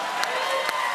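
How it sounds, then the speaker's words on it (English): A studio audience applauds in a steady, even wash of clapping, fairly loud, with a couple of sharper claps standing out. "Why do we always applaud marriage year numbers?"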